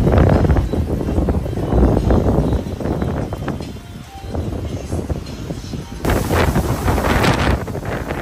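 Strong, gusty typhoon wind in Taiwan roars and buffets the microphone, easing briefly in the middle before surging back hard.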